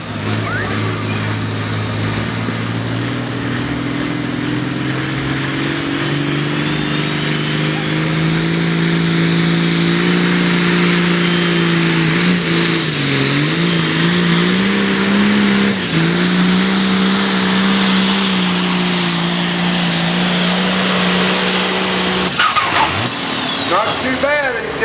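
A pulling truck roars down the track at a truck and tractor pull, its engine screaming at high revs in one long, loud, sustained pull with shifting pitch, while an announcer talks over the PA.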